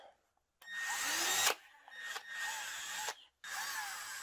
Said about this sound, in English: Angled drill.